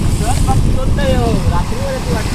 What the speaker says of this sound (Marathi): लाट पण थोडी वाढली ती बघा